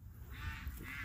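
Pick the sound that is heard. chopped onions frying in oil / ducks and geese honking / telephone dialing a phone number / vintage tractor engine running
ducks and geese honking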